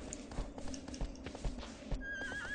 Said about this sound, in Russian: Лошадь, только не упади.